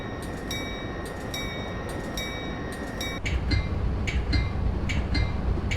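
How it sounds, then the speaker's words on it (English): A freight train rolls past in Train Simulator 2016 on the Chicago-Aurora line, heard as a steady rumbling wash with rhythmic clicking bursts, growing louder and heavier partway through as it draws near. "There's an early morning freight train."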